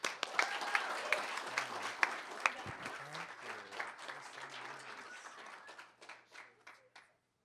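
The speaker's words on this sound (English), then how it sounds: "Join me with a warm round of applause to welcome Simon and Fran with Tinku Wellness" Audience applause welcoming the Tinku Wellness co-founders to the stage at a 2024 Summer Institute demo day, a steady round of clapping from a moderate crowd that tapers off into scattered claps and fades out near the end.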